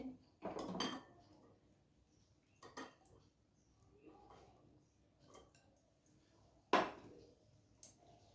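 Chicken pieces tipped into a bowl and mixed for honey chicken with soy sauce, giving quiet clinks and scrapes of a spoon against the dish in separate bursts, close and soft, with no talking.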